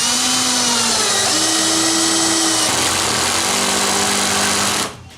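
A power screwdriver drives a screw into wood, giving one steady, loud whirring run of about five seconds with a slight pitch shift partway through, then stopping abruptly.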